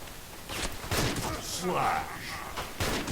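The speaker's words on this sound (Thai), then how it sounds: "ยิงปืนเหรอยิงปืนใหญ่เหรอ" Cannon fire in a pirate video game, several sharp booming blasts in quick succession with thuds and clatter, mixed with excited talk from a player.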